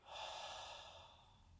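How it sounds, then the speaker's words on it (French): A long, steady exhalation through the mouth during an abdominal breathing exercise, a soft airy rush heard close and alone that slowly fades over about a second and a half. "Expirez par la bouche."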